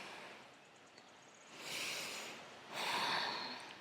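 Two audible breaths drawn in through the nose during a morning yoga flow, the second stronger and longer, each a soft airy rush close to the mic with near silence between.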